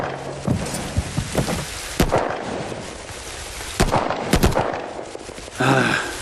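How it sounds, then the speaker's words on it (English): Heavy rain in The Division 2, a steady loud hiss filling the whole stretch, with sharp thuds and a few louder cracks scattered over the top. "I just want to get out of this fucking rain."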